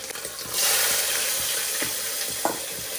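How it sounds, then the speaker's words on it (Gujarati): Asafoetida and chillies tempering in hot oil for a rice dish, a sudden loud sizzle that swells up and then settles into steady frying, with light stirring clinks and no voices. "થોડીક હિંગ નાખી. હવે આ વઘારવાનું."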